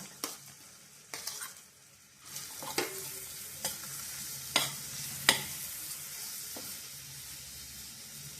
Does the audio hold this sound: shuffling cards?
no